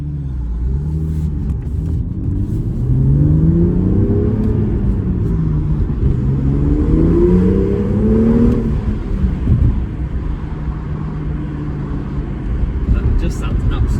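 A 2017 BMW M2 (F87) with the forged N55 3.0-litre turbo straight-six and manual gearbox revs up on a test drive, its engine note rising and falling through two long pulls, loud and close over a steady road rumble.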